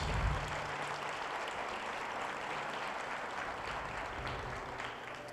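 A church congregation applauds during a service, dense steady clapping from a crowd filling the whole stretch at moderate loudness, tapering slightly near the end.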